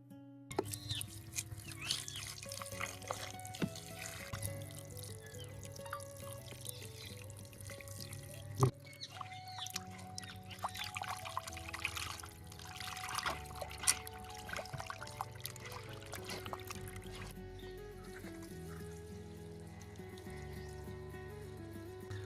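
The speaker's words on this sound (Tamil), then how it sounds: "இப்போ இதில் நம்ம சிக்கனை போட்டு கழுவி க்ளீன் பண்ண போகிறோம்." Water is poured and trickles into a pot while raw chicken is washed in it, a steady liquid splash under continuous background music.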